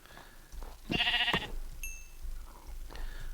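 In Minecraft, a sheep lets out one brief, buzzy bleat in the foreground, followed by a thin high ping and soft scattered game noises, with no voices.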